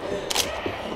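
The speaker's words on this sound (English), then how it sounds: "Reload." Gun being reloaded in the video game Left 4 Dead 2: a short mechanical click-clack of the reload over a low background hum, lasting about a second with no voices.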